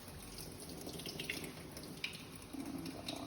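Water runs steadily from a tap into a sink while lentils are rinsed, a continuous close splashing wash with a few small knocks and clinks.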